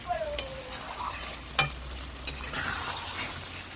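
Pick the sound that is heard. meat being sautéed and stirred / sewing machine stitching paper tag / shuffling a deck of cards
meat being sautéed and stirred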